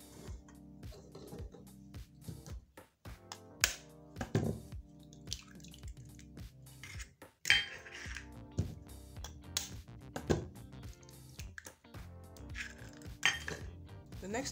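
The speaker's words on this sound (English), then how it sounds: "break in the eggs into a plate" Five washed medium eggs are cracked into a plate, producing a scattered series of close clinks, taps and drips on crockery.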